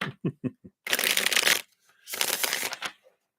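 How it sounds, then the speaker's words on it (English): Tarot cards being shuffled by hand during a live reading: a few quick riffle bursts, then two long, loud, close rasping runs of the deck, with no talk. "Let's give these a shuffle."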